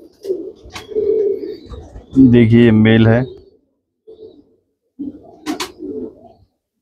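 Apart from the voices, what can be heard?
teddy pigeons cooing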